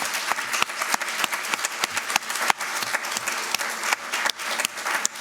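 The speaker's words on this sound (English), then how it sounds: "I think we ought to give them all a round of applause" An audience applauds candidates at a board of education forum, with dense, steady clapping from many hands sustained throughout at moderate loudness.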